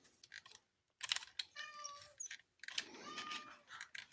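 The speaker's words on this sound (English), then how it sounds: "No, that's enough, cat." A cat meows several times in a small workshop where a radio-control car is being worked on, its loud, drawn-out cries broken by short pauses, with faint tapping between calls.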